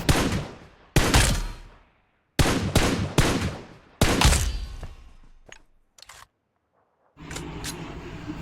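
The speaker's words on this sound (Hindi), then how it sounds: "यहाँ पर तो भाई मुझे फायरिंग आ रही थी" Gunfire in the BGMI battle royale game, several loud sharp bursts of shots that each trail off into echo, separated by short silences, followed by quieter game ambience.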